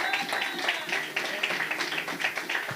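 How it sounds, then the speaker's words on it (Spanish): Congregation applauding loudly in a church service, steady dense clapping from many hands continuing throughout without pause. "Den un aplauso fuerte al que vive."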